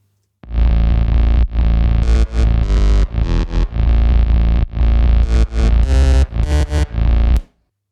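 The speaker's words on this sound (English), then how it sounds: "running it through the granulator, a Max for Live plugin." A sample processed through a granulator plugin with widened stereo spread: distorted electronic fragments stutter in choppy bursts with gaps between them, loud and dense, then cut off abruptly at the end.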